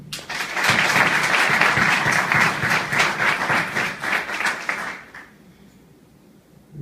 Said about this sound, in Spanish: para quien también solicito un fuerte aplauso